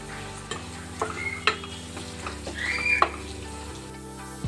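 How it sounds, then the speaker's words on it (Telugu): Turmeric is stirred into raw mango chutney frying in a pan, with a soft sizzle and scattered scraping clinks of a spoon against the pan, close up under a faint steady hum and no talking. "ఇలా కొంచెం వేగిన తర్వాత అందులోనే పసుపును కూడా యాడ్ చేసుకోండి. యాడ్ చేసి మిక్స్ చేయండి."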